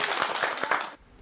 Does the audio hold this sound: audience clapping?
yes